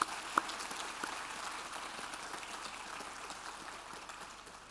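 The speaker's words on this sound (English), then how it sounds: "Let us give a round of applause to everyone who's present." Graduation ceremony audience applauding everyone present, a soft, distant wash of many hands clapping that holds steady and slowly fades, with one sharper clap near the start.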